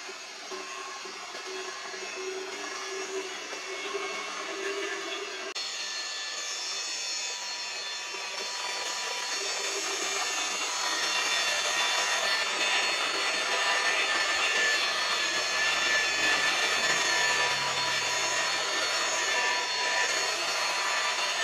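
A Dongcheng DSP06-180 electric car polisher runs steadily on a car's paintwork, a constant high whirring motor whine that grows slightly louder partway through and holds without pause.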